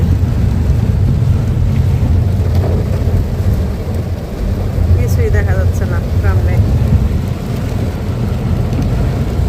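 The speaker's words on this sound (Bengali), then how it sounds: "এত জোরে বৃষ্টি নামছে" Heavy rain pours down steadily during a drive, a constant loud wash of noise with low rumbling beneath it, while a person talks over it.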